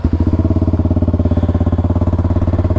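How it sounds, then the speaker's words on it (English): A 2021 Kawasaki KLX 300 SM motorcycle engine runs right after firing up, a loud close single-cylinder idle with a steady, rapid thumping pulse and no talk over it. "let's go ahead and fire up the 2021 KLX 300."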